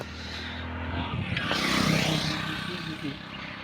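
An auto rickshaw comes along a narrow village road, its engine swelling louder as it nears and passes, then easing off, with voices talking over it.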